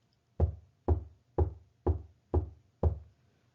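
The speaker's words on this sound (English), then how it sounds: "then he heard the knocking sound again" Six evenly spaced knocks, close and firm, each a hollow thud with a short decay, sounding alone against silence as a sound effect in a children's read-aloud audiobook.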